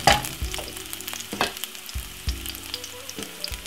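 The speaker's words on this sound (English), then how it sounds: "Put a little bit of garlic inside of the frying pan." Garlic sizzles and spits in a hot frying pan, a steady crackling fry broken by a few louder stirring clatters, close up with no voices.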